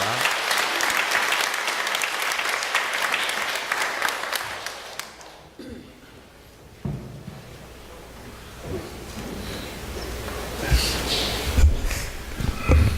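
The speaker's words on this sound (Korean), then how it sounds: "뜨거운 박수로 환영해 주시기 바랍니다." An audience gives warm applause to welcome a speaker for a faith talk. The dense clapping lasts about five seconds, then fades into quieter room sound with a voice and scattered noises.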